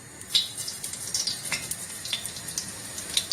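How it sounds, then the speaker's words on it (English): Cumin seeds fry in hot oil over medium heat with a soft, continuous sizzle dotted by light crackles and pops, close by and fairly quiet, with no talking. "You can see as the oil is already hot, it's fluttering quite well."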